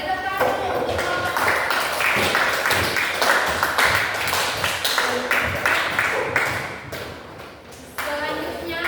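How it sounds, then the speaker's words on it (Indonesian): A classroom applauds a student group after its presentation: several seconds of dense, close clapping that fades, with a teacher's voice over and after it. "beri tepuk tangan dulu untuk kelompok"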